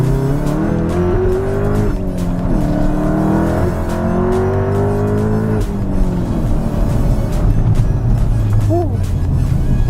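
A 560bhp VW Golf R accelerating hard in second gear, its engine note climbing loudly and steadily through the revs, dropping with gear changes and climbing again, with a brief tyre squeal near the end and voices inside the car.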